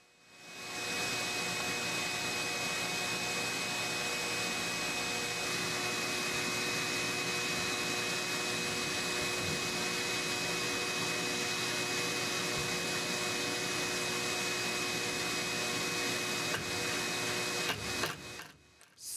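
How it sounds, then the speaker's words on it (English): A vacuum cleaner drones steadily with a loud, even whine that holds for most of the stretch, then cuts off abruptly near the end. "Somebody really should tell this guy to go ahead and turn his vacuum cleaner off."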